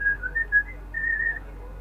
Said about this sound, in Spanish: ahí él está silbando